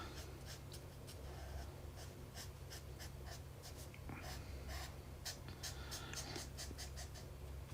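A broad nib pen drags across paper in faint, close, irregular scratchy strokes over a low steady background hum.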